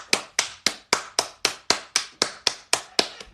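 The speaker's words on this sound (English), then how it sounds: "Everybody please clap." Sharp hand claps from a single nearby source arrive in a steady, evenly spaced run of about a dozen claps, each clear and crisp with a short decay.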